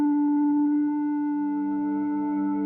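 A Spitfire Blankforms Tape Synths degraded sine patch holds a steady, pure tone; as the expression wheel moves up, lower tones are added underneath, thickening the sustained sound.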